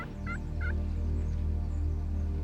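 Rio Grande wild turkeys gobble in short bursts, two or three quick gobbles heard at moderate distance over a steady low outdoor rumble.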